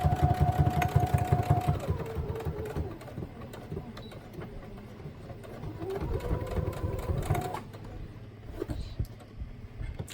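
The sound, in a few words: stitching a handmade mini-book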